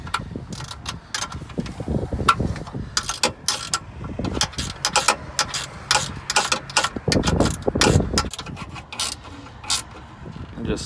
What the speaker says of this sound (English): the best thing to get at is going to be the speed wrench